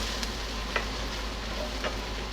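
Vegetables for ratatouille fry in two skillets at once, giving a steady, close, even sizzle with a few faint clicks and taps scattered through it and no voices.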